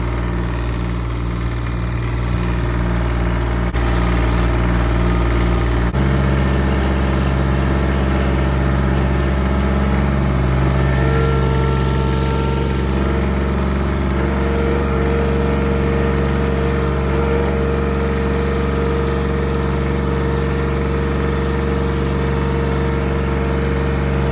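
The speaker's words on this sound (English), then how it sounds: "Not near as much injector noise." A Kubota diesel engine runs on homemade biodiesel, a loud, steady low idle with a deep continuous rumble and a slight rise in pitch partway through, no voices.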